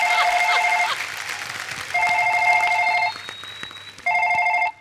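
A telephone rings in repeated double-trill bursts, loud and close, with short silent gaps between rings and no one talking over it.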